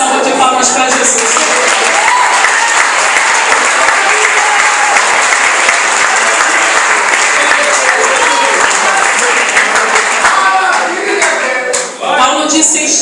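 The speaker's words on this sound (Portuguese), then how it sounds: "Dê uma linda salva de palmas para Jesus." A Pentecostal church congregation gives loud applause for Jesus during a Portuguese-language sermon, a thick continuous roar of clapping with some crowd voices mixed in, briefly dipping near the end.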